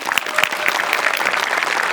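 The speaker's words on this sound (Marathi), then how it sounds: "जोरदार टाळ्या" An audience on a Marathi comedy stage show breaks into loud, sustained applause, with dense clapping that stays strong through the whole stretch.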